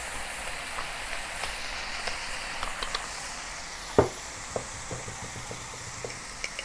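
Mushrooms and bacon sizzle and hiss steadily in a pan as they are seasoned with light soy sauce and pepper. Occasional scrapes and taps from stirring sound over the frying, and no one speaks.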